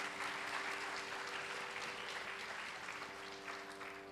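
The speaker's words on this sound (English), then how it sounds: "Could we give her another round of applause, please?" An audience applauds a Bharatanatyam dance recital, dense, steady clapping filling the hall and holding level from start to finish with no voices over it.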